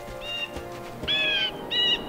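Birds chirp in the Wizard101 game world with three bright, warbling calls of rising length. The calls are fairly close and clear above a low ambient game backdrop.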